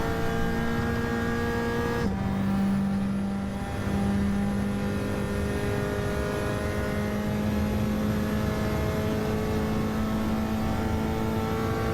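In a racing video game, a race car engine holds a loud, steady high-pitched rev with a brief dip as it shifts, then keeps droning on down a hill with no talking.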